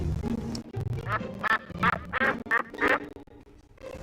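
A voice imitating a duck during a children's story, a run of six or seven nasal quacks in uneven rhythm, close and clear.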